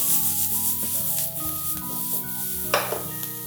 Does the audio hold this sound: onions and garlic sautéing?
yes